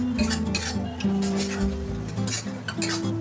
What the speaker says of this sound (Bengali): এবার এটা এই টমেটোর সঙ্গে খুব ভালো করে কষাবো।